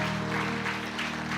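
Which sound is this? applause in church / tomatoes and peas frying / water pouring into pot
applause in church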